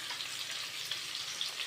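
Tempering seeds sizzle and crackle in hot oil for a tomato rice dish, a soft, steady frying hiss heard alone and fairly quietly, with small pops near the end.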